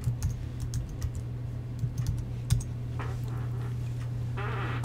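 Quick light taps on a computer keyboard come in a short run of close keystrokes, then a steady low hum with faint clicks carries on alone.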